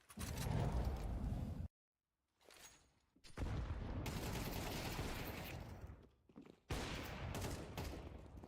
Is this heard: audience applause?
no